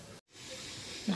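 A pot of Chinese herbal cough remedy boiling on the stove, giving a soft continuous hiss and bubbling that briefly cuts out, then resumes and rises at the end.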